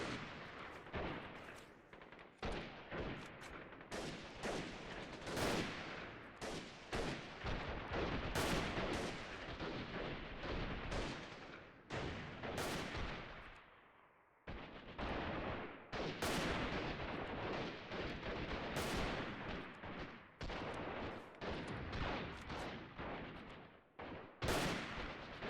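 Gunfire in the video game Freeman: Guerrilla Warfare during a defensive siege, dense overlapping rifle and machine-gun shots cracking in rapid bursts almost continuously, with one brief lull.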